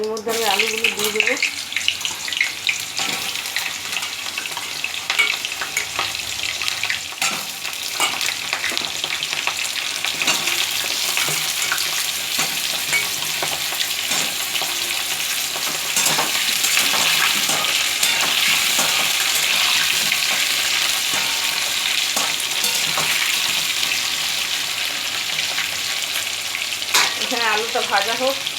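Potatoes frying in hot oil with bay leaf, a loud, steady sizzle and hiss running throughout, with stirring scrapes and clatter of a spatula in the pan.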